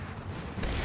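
Artillery fire in the video game Combat Mission: Shock Force 2, a dense rumbling boom that swells toward the end, loud and close, with no voices.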